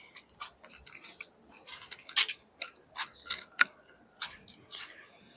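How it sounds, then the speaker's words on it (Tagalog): Steady high-pitched insect chirring runs throughout, with scattered faint clicks and chirps on top; no talking. "Yan naman ang kuliglig."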